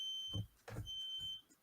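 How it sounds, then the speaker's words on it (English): A smoke detector in the room emits two short electronic beeps about 0.4 seconds apart, each steady and high-pitched, with a continuous thin tone running faintly behind them. Nobody speaks. "Sorry, I've got a beeping going on."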